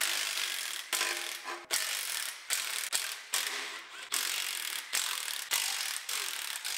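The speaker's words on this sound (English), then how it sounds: "So now we can start unbolting our oil pan." Socket ratchet clicking in steady bursts while unbolting the oil pan on a Mustang engine, close and loud with brief pauses between runs of rapid pawl clicks.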